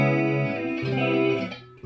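Guitar chord through the cloner chorus on a Positive Grid Spark amp at low depth, giving a gentler, standard 80s-style shimmer; a few sustained chord changes ring out alone at moderate volume.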